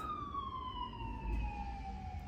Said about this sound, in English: Don't mind the sirens.